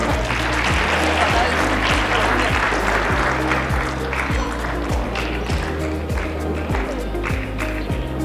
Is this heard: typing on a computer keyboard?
no